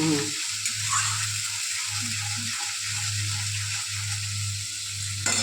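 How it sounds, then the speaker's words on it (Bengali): Ginger and garlic fry in a pan, giving a steady close sizzle, with a low humming tone underneath broken by a few short gaps and soft stirring scrapes, with no speech. "একটু ভালো করে ভাজা হবে, আদা রসুনটা ভাজা হয়ে গেলে সব দিয়ে দেবে"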